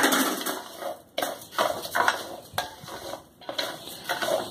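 Rice sautéing in a pan for a minced-meat-and-rice dish, with a spoon scraping and stirring the grains in repeated short strokes over a steady sizzle, close and fairly loud.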